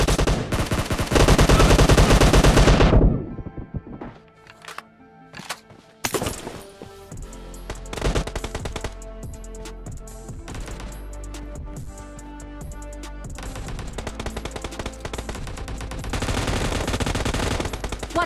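Gunfire in the BGMI mobile battle game during a team deathmatch: loud, rapid automatic bursts at the start, then a sparser run of single shots and short volleys that build back into heavy sustained fire toward the end.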